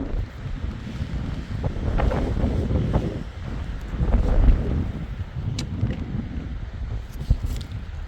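Strong wind sweeps across Moosilauke Ridge on Mount Moosilauke, partly broken by trees along the trail, in a steady gusting roar with heavy buffeting close on the microphone.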